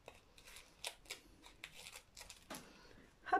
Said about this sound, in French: je vais couper un bout de scotch